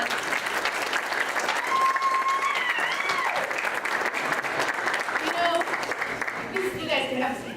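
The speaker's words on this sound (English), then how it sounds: "join me in giving them a round of applause" A church audience claps in sustained, even applause, a dense crowd sound that holds steady throughout, with a few faint voices and whoops rising over it.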